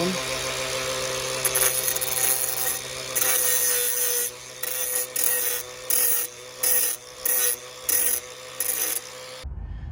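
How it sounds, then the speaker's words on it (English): Drilled hole edges in a metal plate are deburred after step drilling, heard as a continuous grinding, scraping tool sound that breaks into short rhythmic bursts with brief pauses toward the end. "I'm just going to burr off the edges now"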